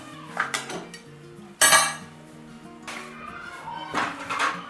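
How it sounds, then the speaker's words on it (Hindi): Coconut being stirred in a pan for besan barfi, a few clinks and scrapes of utensil against metal, one louder clatter mid-way, over faint background music with no speech. "तो सबसे पहले तो हम कोकोनट को ही अच्छी तरह से मिक्स कर लेंगे, और फिर इसे हम भून लेंगे।"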